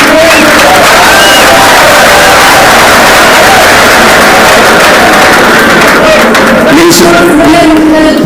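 A university student audience claps and cheers loudly at a public lecture, a dense continuous roar of applause mixed with crowd babble and whoops throughout.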